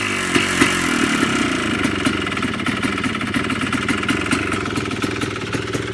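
Yamaha Blaster ATV engine, recently sitting unused, idling unevenly nearby with a loud, rattly, uneven two-stroke putter and clatter throughout.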